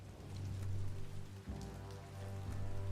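Steady rain falling in the Biomutant game world, a dense even hiss of drops with a low droning bed beneath, continuous and fairly soft throughout.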